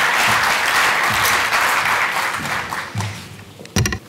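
Audience applause at an official humanitarian conference, a dense wash of many hands clapping, loud and sustained before thinning out toward the end, with a few low voices and a brief knock near the close.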